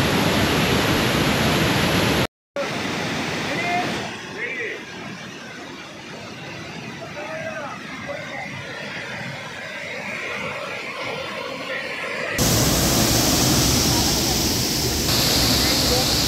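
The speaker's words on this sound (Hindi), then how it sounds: "हम लोग पहुंचे हैं 10 किलोमीटर दूर नांगरतास वाटरफॉल" Nangartas waterfall in Amboli during the monsoon rushes as a dense, steady roar of falling water, loud and close at the start and end, softer in the middle.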